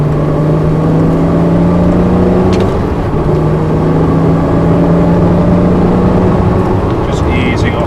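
A Porsche pulls in fourth gear on a track, its engine holding a loud, steady, close hum with a faint whine on top that climbs slowly in pitch over several seconds.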